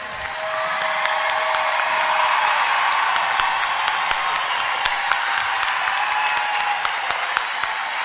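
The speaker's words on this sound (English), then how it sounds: "How about a round of applause for our graduates?" A large audience at an adult education graduation ceremony claps steadily for the graduates, a dense, loud wash of applause sustained throughout with a few sharper individual claps standing out.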